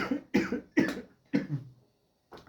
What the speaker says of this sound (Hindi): सॉरी दोस्तों, खांसी आ गई, लगातार 13 मिनट हो गए बोलते बोलते।